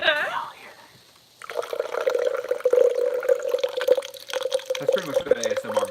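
Peace Tea streams into a cup in a steady, bright trickle lasting several seconds, preceded by a quiet voice and closing with more talking.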